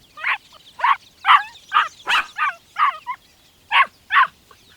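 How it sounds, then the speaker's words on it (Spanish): A puppy barks in a run of about ten short, sharp yaps at a steady, slightly uneven rhythm, close and clear against an otherwise quiet background with no talking. "el cachorro se puso de pie y ladró"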